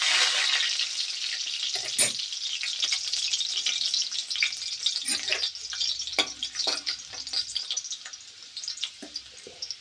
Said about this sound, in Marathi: त्यामध्ये लसणाच्या बारीक काप केलेल्या कळ्या टाकूया.